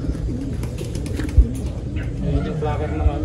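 Pigeons cooing in a loft, soft repeated coos close by, mixed with someone talking over them.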